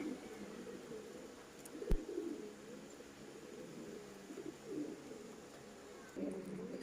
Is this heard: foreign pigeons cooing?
yes